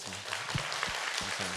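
Church congregation giving a short burst of applause of thanks during a Wednesday worship service, a brief wash of many hands clapping at moderate distance in a large room.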